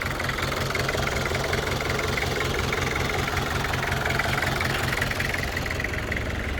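A Nissan Big-M pickup truck engine idles steadily and loudly up close, with a constant, even rumble that holds throughout and no voices over it.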